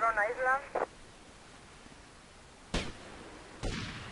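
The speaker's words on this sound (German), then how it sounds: "Ich höre mal Schüsse und das ist niemand da, der schießt." Two sharp, isolated gunshots from GTA Vice City ring out about a second apart, moderately loud over a quiet game background.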